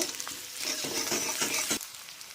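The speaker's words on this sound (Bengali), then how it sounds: "আমার তেলটা গরম হয়ে গেছে ওর মধ্যে একটা পেঁয়াজ কেটে নিয়েছিলাম দিয়ে দিলাম পেঁয়াজটাকে নেড়ে দেব" Sliced onion frying in hot oil while being stirred, a loud close sizzle broken by several rhythmic scraping strokes of a spatula before the sound eases.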